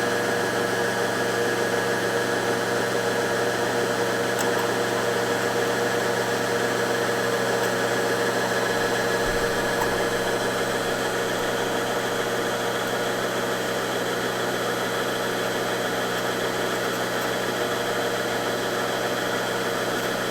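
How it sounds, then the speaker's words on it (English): A PE800 embroidery machine winds a bobbin with a steady, unbroken motor whir and hum that holds at one level for the full stretch, with no talking. "So that's winding my bobbin."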